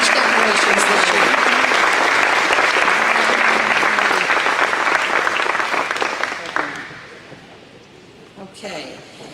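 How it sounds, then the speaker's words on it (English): An audience at a 4-H Style Revue and State Fair awards program claps loudly and steadily for the stage decorations, then the applause fades away over the last few seconds, leaving a quiet room. "a round of applause for these beautiful stage decorations this year"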